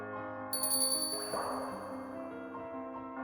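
A magical bell in an anime fantasy scene rings out with a bright struck ding, its high shimmering tones swelling and then decaying over layered sustained music, loud and close with no voices.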